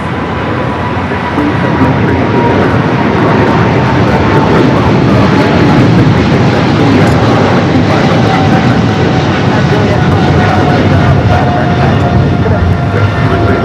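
Jet engines of a British Airways airliner at Los Angeles International Airport, a loud, close, steady roar that swells slightly and holds, with a faint voice briefly beneath it.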